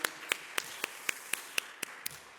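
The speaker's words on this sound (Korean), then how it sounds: "우리 격려하며 박수하겠습니다" A church youth service congregation claps in encouragement. Nine faint, evenly spaced sharp claps keep a steady, even beat, with almost no other sound around them.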